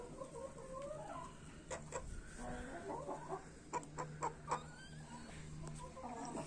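Country chickens in a rooftop terrace cage cluck softly nearby, with a few sharper clucks and pecking taps against a quiet outdoor background.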